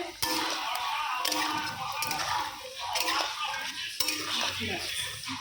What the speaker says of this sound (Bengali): এটাও ভাজা হচ্ছে।